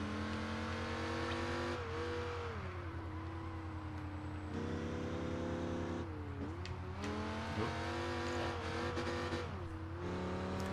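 Race car engine in the Project Gotham Racing 4 video game on the Ring speed trial, a loud steady drone with revs dipping and climbing as the car slides and spins out, with faint tire squeal.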